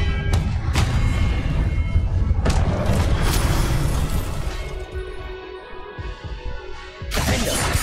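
Spell-casting effects from a wizarding video game, with several sharp crashing bursts and booms separated by rumbling, shimmering tails and then a final loud impact.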